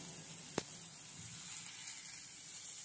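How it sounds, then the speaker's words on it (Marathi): Cashew pieces fry in a pan with ginger for bhindi masala, giving a quiet steady sizzling hiss with one sharp click near the start. "आता 2 ते 3 मिनिटं परतून झालं की त्यामध्ये काजूचे तुकडे करून घालते, म्हणजे लवकर भाजले जातील"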